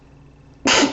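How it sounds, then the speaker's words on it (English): A single sharp sneeze bursts out after a near-silent pause, loud and close, lasting a fraction of a second. "About to sneeze."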